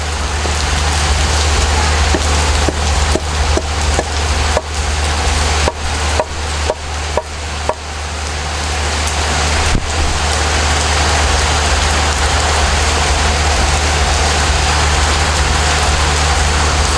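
Rain falling outdoors during stove cleaning, a steady loud wash of rainfall with a low constant hum beneath and a series of sharp knocks and taps in the first half.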